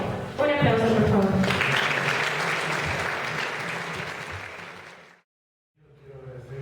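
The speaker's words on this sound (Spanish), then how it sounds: "Un aplauso, por favor." Audience applause welcoming an economist guest at a university lecture in Quito, a dense clapping crowd that swells then gradually fades and cuts out, with a voice speaking over the start and again after a brief silence.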